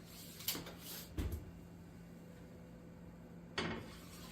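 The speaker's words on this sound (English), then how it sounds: "We're going to put it in our 325 degree oven here." A baking dish slid into a 325-degree oven in a kitchen: a few faint clunks and rattles of the dish and oven rack, then the door thudding shut, quiet over low background hum.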